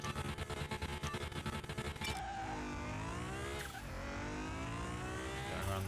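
Restored 900 HP Nissan GT-R R35 lapping a racetrack in Car Mechanic Simulator 2021. The engine drones loudly and continuously, rising in pitch through the gears with a shift partway through, and there is no talk.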